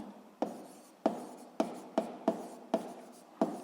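Pen strokes scratch across paper by hand, a series of short rubbing scrapes with small taps between them, close and quiet, as Hooke's law is written out.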